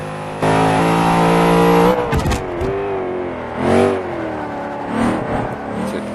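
A tuned race car with softened suspension in the video game Forza 5 revs hard, shifts and accelerates, its engine whine rising and falling through gear changes with brief tire noise, loud and close.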